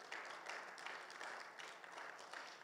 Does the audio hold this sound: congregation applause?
yes